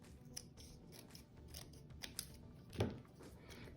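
Quiet snips of scissors cutting material during a craft collage process, a few soft clicks and a firmer cut near the end over low room hiss.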